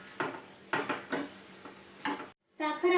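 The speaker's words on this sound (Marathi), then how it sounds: "साखर ही या गाजरामध्ये व्यवस्थित अशी मिक्स करून घ्यायची आहे" Sugar being stirred into carrot halwa in a pan over low heat, several distinct scraping clatters of a utensil against the pan in an uneven rhythm, close by, then a brief silence and a soft tonal sound at the end.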